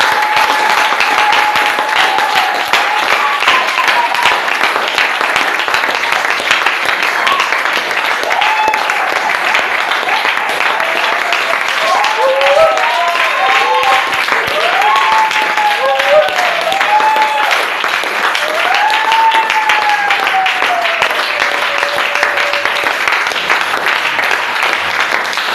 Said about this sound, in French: Acclamons donc très fort pour le roi des rois